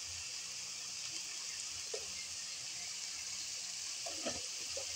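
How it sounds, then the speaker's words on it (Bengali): Food frying in a pan at home, a soft, steady sizzle with a faint hiss throughout and a few light clicks near the end, fairly quiet and with no voices. "এটা একটু ফ্রাই হতে হতে একটু দেরি হবে।"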